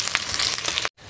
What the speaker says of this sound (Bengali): সেগুলো একটু হালকা ভাজার জন্য চুলায় দিয়ে দিলাম গরম তেলের মধ্যে